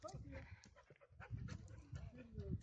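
Dogs on a muddy mountain hike pant and snuffle close to the microphone in quick uneven bursts, with faint rustling and low movement noise around them.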